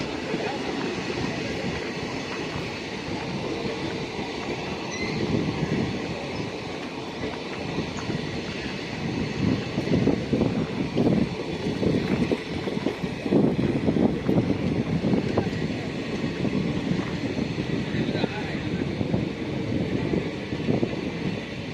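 A train bound for Bhavnagar pulls slowly away from the platform, wagons rolling past with steady rumbling and rhythmic wheel clatter that builds slightly as it gets underway, continuous throughout.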